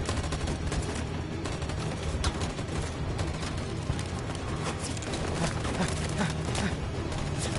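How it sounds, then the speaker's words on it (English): Covering gunfire in a Gears of War-style video game: dense, continuous bursts of shots roll on without a break across the whole stretch, loud and busy, with no voices over them. "Covering fire!"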